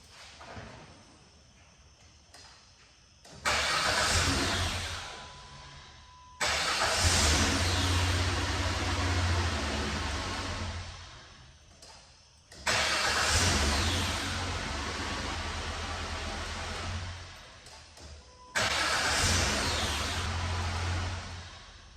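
2002 Chrysler Sebring with a new starter and ignition switch, starting and revving repeatedly: the engine cranks and catches several times, each start followed by a loud rev that holds and then drops back toward idle.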